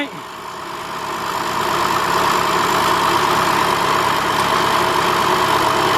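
A 2004 Chrysler PT Cruiser with the 2.4 engine idles steadily, a constant close-up hum that rises slightly in the first two seconds, with faint background voices and a non-charging alternator.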